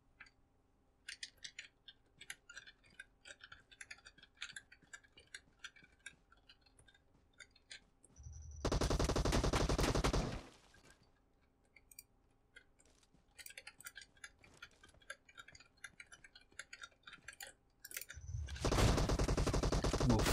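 PUBG Mobile gunfire crackles in sharp scattered shots and short bursts, with two loud sustained blasts of noise breaking in near the middle and end.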